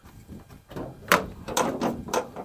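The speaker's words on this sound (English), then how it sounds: "open that door, Josh." Door of a Volkswagen Caddy 1.9 TDI being opened: a quiet rattle, then a run of close, crisp latch clunks and mechanical knocks, with no talking.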